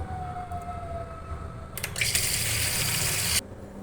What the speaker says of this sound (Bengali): আমি আলু আর ঝিঙেটাকে কেটে জল দিয়ে ভিজিয়ে রেখেছিলাম, এখন ভালো করে ধুয়ে নেব।